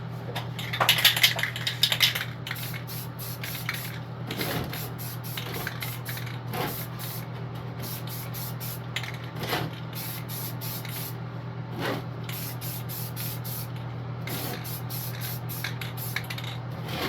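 Satin espresso aerosol paint sprayed onto N scale model trees: a run of short, close hissing bursts in a regular on-off rhythm, with a little light rattling and handling noise between them.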